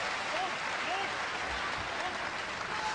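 A pro wrestling crowd roaring and cheering in an arena, a dense continuous wash of applause and voices with a few whistles on top, steady and loud throughout.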